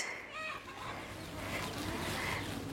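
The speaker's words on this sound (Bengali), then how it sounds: "মুরগির আওয়াজ" Chickens cluck faintly in a quiet hillside village homestay in Kalimpong, with a few soft calls against a calm, low background.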